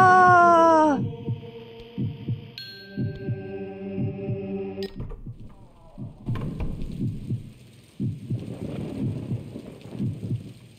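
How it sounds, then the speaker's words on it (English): A slow, deep heartbeat in the video game Dementium: The Ward thuds in a steady rhythm beneath game music. A tonal chime opens the passage and sustained synth notes follow. "I really like the heartbeat in the background"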